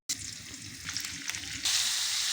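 Goat meat sizzles and fries in margarine in a pan, a steady close crackling hiss that grows louder and brighter partway through, with no voices.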